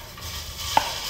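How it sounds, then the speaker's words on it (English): Soft crackling sizzle of minced pork frying in a pan, with a brief sharp clink of a utensil partway through; no talking. "And you hear that sizzle, so that's that good stuff."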